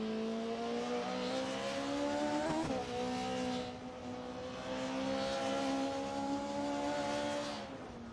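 Racing cars lapping Hockenheim in a racing video game, a steady loud multi-engine drone with rising and falling revs, a brief shift-like dip near the middle, continuous throughout.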